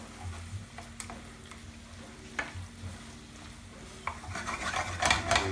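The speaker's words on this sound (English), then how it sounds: "it's important that you cook those onions for 20 minutes" Onions and pancetta sizzle and fry in a pan, with occasional clicks and scrapes of a utensil stirring and touching the pan, steady low background hum throughout, building slightly louder near the end.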